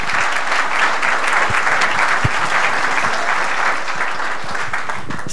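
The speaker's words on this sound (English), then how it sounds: "Let's give her a clap as she comes up" Church congregation claps steadily in a loud, even burst of applause that fills the room, welcoming an associate pastor to the front during a worship service.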